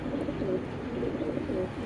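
Racer pigeons coo softly in repeated low, throaty murmurs, close by and continuous, with no voices.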